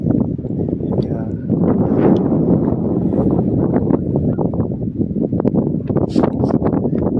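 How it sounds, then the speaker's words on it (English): Strong wind on a hill above Lake Sevan in Armenia, heavy gusty buffeting and rumble against the microphone, loud and close throughout, with brief gusts rising and falling. "it's very windy right now"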